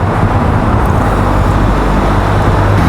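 Loud, dense road traffic rolls past on a busy road where construction work is underway, a continuous broadband roar of passing vehicles with no gaps or distinct horns.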